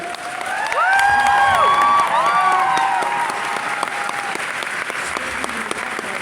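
A fan expo panel crowd applauds loudly and continuously, with scattered whoops and cheers rising over the clapping.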